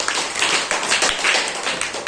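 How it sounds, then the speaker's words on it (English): Students clap together in a classroom, giving a dense, steady round of applause for two classmates that carries on throughout with no talking. "Clapping for Krishna and Rohit."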